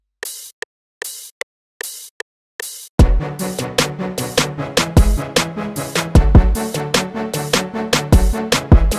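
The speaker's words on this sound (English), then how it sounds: "Then we're adding in this open hat." Open hi-hat sample in a hip-hop beat: five airy, sizzling hits alone on a steady pulse, then the full beat with kick and bass kicks in and the hats ring through the dense mix.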